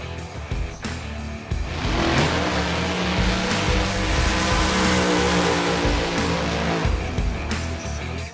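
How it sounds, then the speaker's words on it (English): A hot rod drag car makes a single-car qualifying pass at a drag strip during a Labor Day event, its engine a loud, sustained roar that builds quickly after a brief lower rumble and holds steady for several seconds. "The first pass for the rods in qualifying was a single car pass with James Mosier."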